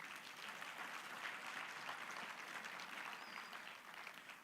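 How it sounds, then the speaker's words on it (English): An audience at a technical and vocational education conference gives a sustained round of applause for a panelist, a faint, even wash of many hands clapping from a distance with no one talking. "Let's give a good round of applause"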